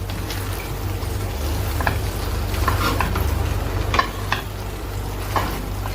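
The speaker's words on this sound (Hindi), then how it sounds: "अब मैं इसमें अपनी स्पैगेटीज डालूंगी। डालकर अच्छे से मिक्स कर लूंगी।" Spaghetti being stirred with spices in a hot pan, a continuous close sizzle with repeated scraping and clacking strokes of the spoon as the noodles are tossed.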